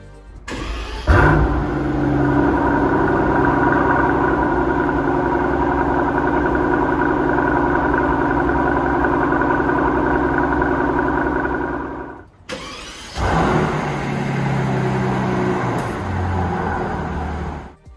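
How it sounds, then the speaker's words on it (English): A Mercedes S65 AMG W222 with its V12 biturbo engine cranks and fires up with a loud flare, settles into a smooth steady idle, cuts off briefly, then restarts and idles again, close and alone. "This engine produces a unique and satisfying sound every time you start the car."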